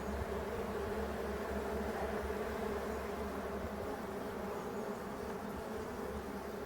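Honeybees in an opened Dadant hive in a forest setting give off a steady, dense buzz that stays constant and fairly close throughout, with no voices.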